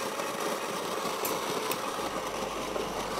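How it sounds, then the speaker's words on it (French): Espresso coffee grinder grinding about 7 grams of beans, a steady close whirring motor drone with a dense gritty hiss that runs continuously without pause. "on met dans le moulin"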